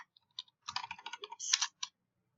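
A few quiet clicks, then a quick burst of computer keyboard typing close by, ending with one last keystroke.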